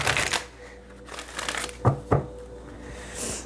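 A deck of cards is shuffled close by, with a burst of riffling followed by a few sharp snaps and soft rustles.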